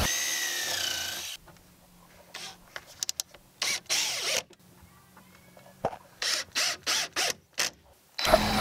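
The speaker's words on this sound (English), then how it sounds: "Use clamps to secure them while you screw them together." A power drill drives screws into cedar picket boards for a raised garden planter bed, in short whirring bursts separated by quiet pauses, the bursts coming quicker and closer together toward the end.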